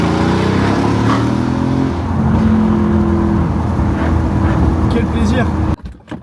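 A Brabus car engine roars and revs loudly and continuously up close once warmed up, then cuts off abruptly near the end.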